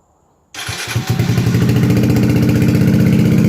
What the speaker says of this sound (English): I'll fire it up here quickly and let you hear how the Masari exhaust sounds.